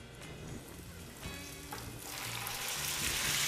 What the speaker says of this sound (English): That's sizzle again.